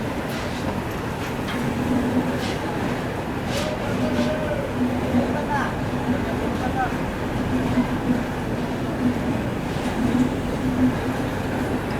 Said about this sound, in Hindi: चलिए दोस्तों, अपनी ट्रेन पहुंच चुकी है जबलपुर रेलवे स्टेशन पर।